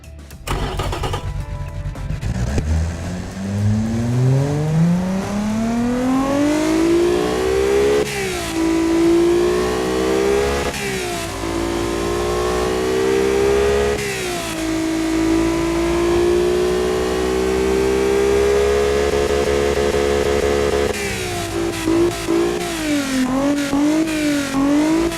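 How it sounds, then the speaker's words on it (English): A car engine revving hard up to 8500 RPM, its pitch climbing steadily from idle, holding high with brief dips as the throttle is blipped, loud and close with no talking. "So let's hear this engine and enjoy the sound of it."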